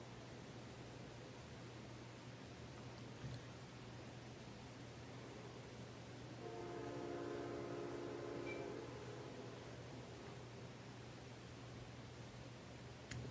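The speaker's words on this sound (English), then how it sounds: "That is a train." A train passing at a distance, a faint steady rumble that swells into a louder rolling band midway through before fading back into low background noise.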